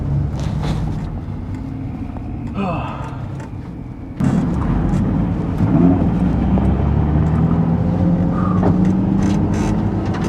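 A Nissan 350Z driving a slow cool-down lap on a track, its engine a steady low drone heard from inside the car, with a gear change or throttle shift midway and a voice talking over it.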